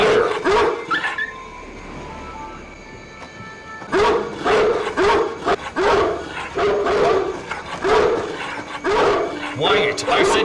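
A dog in the video game Splinter Cell Pandora Tomorrow barks repeatedly in rapid, loud bursts over a steady background din, with a brief lull before the barking resumes.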